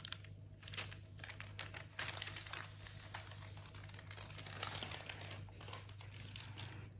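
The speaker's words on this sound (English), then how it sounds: "Carefully remove the baking paper." Baking paper peeled away from rolled shortbread cookie dough, giving a steady, close crinkling and crackling that lasts throughout over a low background hum.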